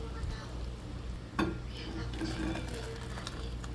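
Food sizzles in a frying pan while a utensil stirs it, with one sharp scrape or knock against the pan, close-up over a steady frying hiss.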